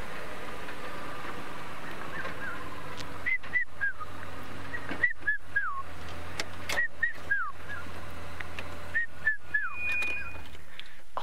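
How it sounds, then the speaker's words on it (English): A red-chested cuckoo repeatedly calls a short series of three or four descending whistled notes, pausing between bursts, over a steady low background hum. "That red-chested cuckoo has not stopped."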